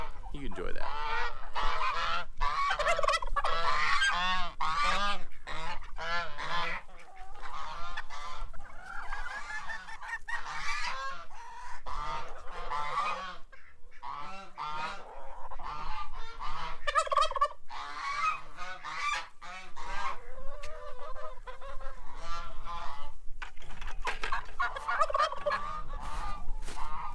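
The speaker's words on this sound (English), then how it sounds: "I'll let you look at the birds and you enjoy that" Farmyard geese honk loudly and repeatedly, close by, in overlapping calls with short pauses; other fowl may join in, and there is no speech.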